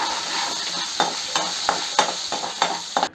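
Shallots fry in a pan with curry leaves and green chili, giving a steady sizzle broken by sharp spatula scrapes and stirs roughly every half second, close and fairly loud.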